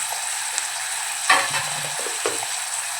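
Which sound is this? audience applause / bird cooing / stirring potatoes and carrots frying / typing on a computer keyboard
stirring potatoes and carrots frying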